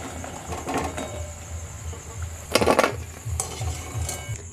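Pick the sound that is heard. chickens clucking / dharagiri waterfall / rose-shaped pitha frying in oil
rose-shaped pitha frying in oil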